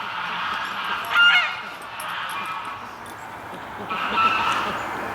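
Muscovy drakes fighting outdoors in winter, heard as a couple of short, loud honking squawks breaking out over a steady background hiss, with faint scuffling between bursts.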